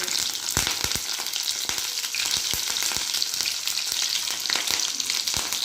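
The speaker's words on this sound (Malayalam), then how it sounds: "ഞാനൊരു പാത്രത്തിൽ കുറച്ച് എണ്ണ ഒഴിച്ചിട്ടുണ്ട് ഇനി അതിലേക്ക് നമുക്ക് വെളുത്തുള്ളിയാണ് ഇട്ട് കൊടുക്കുന്നത് വെളുത്തുള്ളി കറിവേപ്പില കൊടുത്തു" Garlic and curry leaves crackle and hiss in hot oil, a dense, even sizzle punctuated by frequent quick pops and spatters, close and fairly loud with no voices.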